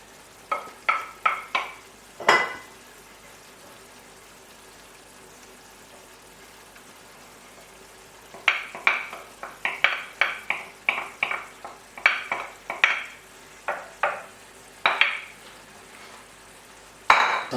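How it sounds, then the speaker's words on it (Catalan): Yellowfoot mushrooms hitting hot oil in a pan and being stirred, a series of sharp, close clattering scrapes and sizzling bursts in two clusters, separated by a quieter stretch of low background hiss. "Els camagrocs els passarem una mica per la paella. Una mica d'oli també."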